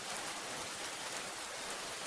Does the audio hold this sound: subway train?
no